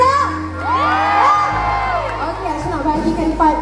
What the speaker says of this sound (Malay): Berikan tepuk tangan untuk Abang Eddie, everyone.